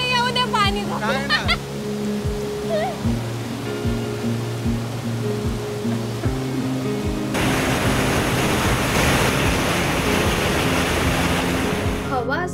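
Water rushing and splashing on a rainy-season outing on the Konkan coast of India, a steady broad wash that swells louder and rougher partway through, with people talking over it.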